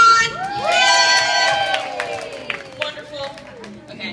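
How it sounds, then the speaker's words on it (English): Loud, sustained cheering and shouting from an audience full of children at a live science show, swelling early and then tapering off, with scattered yells near the end. "Everybody cheer them on!"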